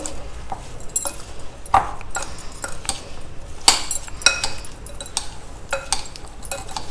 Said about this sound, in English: Now mix all these together very well.